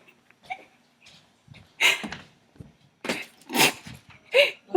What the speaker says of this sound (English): I've never heard anybody snore the way this man snores.